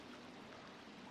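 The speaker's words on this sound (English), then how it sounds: "the water is so loud here." Rushing water in The Forest video game, a steady broadband wash of flowing stream noise, faint and unbroken for about a second, with no voices.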